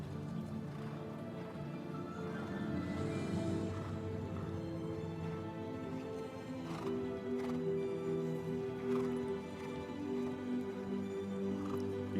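A horse's hooves beat in an even, rhythmic clip-clop during a Grand Prix dressage test at an FEI World Cup event. The footfalls are moderately loud and steady, with a sustained tonal sound running underneath.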